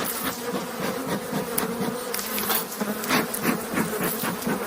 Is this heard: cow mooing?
no